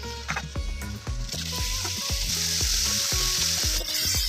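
Prawns coated with salt and a little turmeric frying in two tablespoons of oil, a loud steady sizzle with repeated low knocks and scrapes of stirring throughout, no voices.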